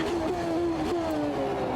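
A Formula 1 car engine in Automobilista 2 revs steadily at high pitch, with quick pitch shifts up and down, loud and close throughout.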